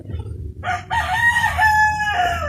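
A rooster crows loudly and close by, one long drawn-out cock-a-doodle-doo with a rising start and a sustained, wavering end.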